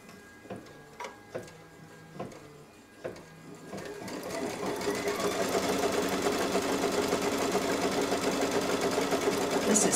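A computerized embroidery machine stitches a quilt design, starting with a few sharp mechanical clicks and then settling into a continuous, rapid, rhythmic whirring hum, close and steady.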